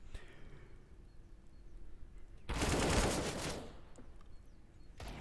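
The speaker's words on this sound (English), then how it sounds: "we're going to see how well the Deagles can do against the Rifles and the MAC-10 of Easy Money" In a competitive Counter-Strike style match, Desert Eagles trade fire with rifles and a MAC-10, a loud burst of rapid gunfire erupting after quieter ambient game noise, then tapering off with a final shot.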